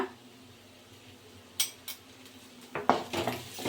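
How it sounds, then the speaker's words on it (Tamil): Egg pasta is mixed with salt in a pan: a few quiet metal clinks and scrapes of a spoon against the pan, sparse and close, with near silence between them. "சால்ட்டு போட்டு நல்லா கலரி விட்டுக்கலாம்"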